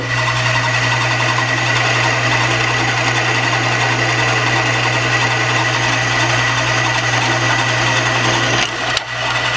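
Drill boring a hole with wax cutting lubricant on the bit, a loud steady whine and hum running continuously close up, cutting off briefly near the end.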